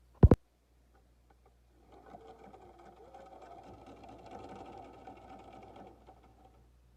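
A domestic sewing machine stitches navy blue thread along the folded edge of a fabric face mask, running steadily for about four seconds after a sharp click, close and moderately loud.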